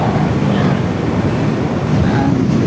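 Strong wind buffeting outdoors, a continuous loud rumbling roar with steady gusts throughout and no clear voices over it.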